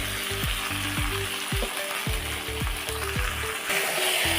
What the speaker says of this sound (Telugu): ఆయిల్ వేడవ్వగానే ఆయిల్లో ఈ గోంగూర వేసుకోవాలి